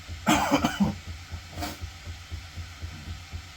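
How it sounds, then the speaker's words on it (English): A few close, harsh coughs in a quick burst, then a softer single cough after a pause, over a low steady background hum. "I'm coughing because I don't feel great"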